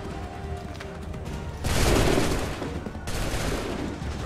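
Musket volley gunfire in Assassin's Creed III, a sudden loud burst of many overlapping shots that rolls on for over a second, followed by a second ragged volley, with fainter battle noise before.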